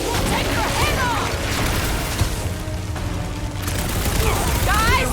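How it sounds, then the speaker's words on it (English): Nova Corps cannons fire in the Guardians of the Galaxy video game, a barrage of booming blasts and crashes mixed with whooshing effects, with game voices talking over the chaos. "Those Nova Corps cannons will take your head off!"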